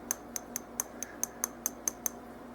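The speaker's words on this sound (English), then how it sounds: "That's a glass bottle." A glass bottle of barbecue sauce is handled, giving about ten light, evenly spaced clinks and taps in quick succession, close and crisp against a quiet kitchen background.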